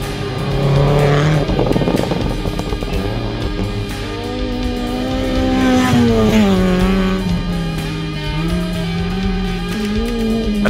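Rally cars on a treacherous muddy gravel stage at the Toyota Gauteng Rally rev hard and loud, their engines rising and falling through gear changes as they brake and turn through the section.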